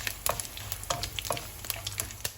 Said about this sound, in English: So saute the spices till you get the fragrance.